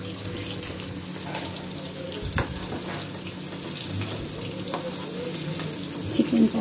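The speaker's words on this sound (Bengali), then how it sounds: "চিকেন পকোড়া ভাজা হচ্ছে।" Chicken pakora fries in hot oil with a steady, fairly quiet sizzle and bubbling, broken by a brief clatter partway through and a few small knocks near the end.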